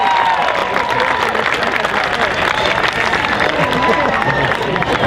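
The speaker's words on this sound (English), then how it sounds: "give them a round of applause" Applause from a crowd at a cosplay contest at the Orlando Japan Festival, clapping for a costumed family, dense and loud with cheering and a babble of voices mixed in throughout.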